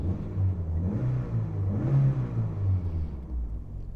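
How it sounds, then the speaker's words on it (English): A 1994 Toyota Celica GT4 WRC engine revs up and down in a couple of throaty surges, close by and steady, with no talking. "let's give it a couple of revs"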